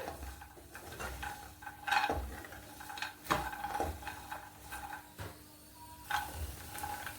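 Dry fruits are fried in a pan on a low flame while being stirred continuously. A spoon scrapes and clinks irregularly against the metal pan under a faint background sizzle, with no voices.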